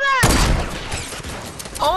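Gunfire in Fortnite, a sudden loud burst of shots rattling on continuously at close range, with a voice heard at the start and end.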